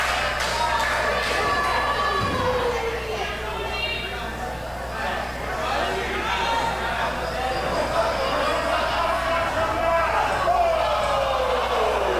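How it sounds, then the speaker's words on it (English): An indoor crowd at an independent wrestling show cheers and chants, a steady, loud roar of many voices with rising shouts, while a commentator talks over it throughout. "Crowd trying to get Tony Novak back into this one"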